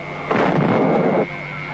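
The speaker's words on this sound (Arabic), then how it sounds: "وانطلق مدفع الافطار" A Ramadan iftar cannon fires in a comedic sketch: a single boomy blast that rumbles for about a second over a steady background hum, then cuts off.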